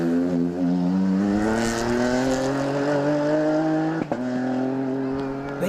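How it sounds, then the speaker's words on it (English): A small-engined Ford Fiesta rally car approaches on a stage of the Ulster Rally, its engine note rising steadily and loud for several seconds, with a brief dip around a gear change near the end. "we can hear the tones of the small-engined Fiesta"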